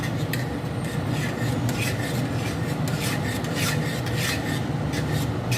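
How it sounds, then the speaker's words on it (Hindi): A spoon steadily stirring and scraping yogurt into beef white keema in a pot over a slow flame, a continuous rasping rub with faint repeated metal clinks, close and alone. "ऐसे ही चलाते रहेंगे जब तक हमारी दही बिल्कुल मेल्ट ना हो जाए।"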